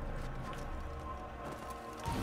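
Horse hooves clip-clop in the Assassin's Creed video game, a steady muffled patter of galloping steps under game music and ambience, closing on a heavier thud.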